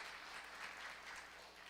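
A church congregation at a Sunday worship service gives brief, soft applause welcoming visitors, a faint, steady wash of distant clapping.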